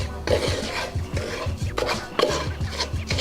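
Scraping and clattering of a utensil stirring Cajun shrimp and rice around a skillet, with repeated rhythmic strokes against the pan, close and fairly loud, no voices.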